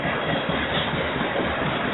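A southbound train passing close by, a dense, steady rumbling roar that holds at the same loudness throughout, with no voices.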